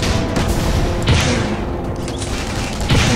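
Rapid thumping gunfire from a weapon in Tribes: Ascend, a steady burst of shots and booms over continuous loud game noise.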